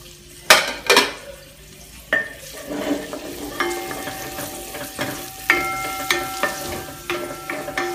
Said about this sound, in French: tu fais revenir les oignons coupés en petits morceaux